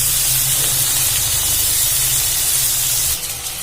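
Sliced onions fry in hot oil for a bachelor-style chicken curry, giving off a loud, steady sizzling hiss that eases off slightly near the end.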